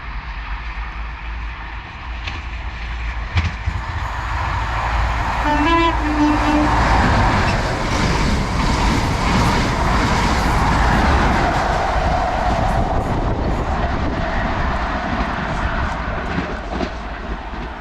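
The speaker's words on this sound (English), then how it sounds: "It's a ScotRail service from Aberdeen to Glasgow Queen Street, 43031 and 163 again with tones." A ScotRail HST with power cars 43031 and 43163, running from Aberdeen to Glasgow Queen Street, sounds a short two-tone horn as it approaches a platform. A loud, sustained engine roar and rolling rumble follow as it passes close by.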